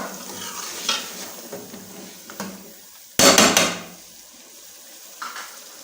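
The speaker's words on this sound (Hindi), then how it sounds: "और अच्छे तरीके से मिक्स करेंगे और फ्राई करेंगे।" Chicken and peas stirred and fried in a pan with garam masala: a loud burst of sizzling and scraping, with scattered clinks of a utensil against the pan before and after.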